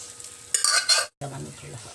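Chana dal with roselle stems and leaves being stirred in a pan, a short burst of scraping and sizzling, a brief pause, then softer frying with a low rumble, close and fairly quiet.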